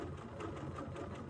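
A domestic or sit-down sewing machine stitching while fibers are couched onto fabric. It gives a steady, close mechanical whir with a fast, even rhythm and runs alone without talk.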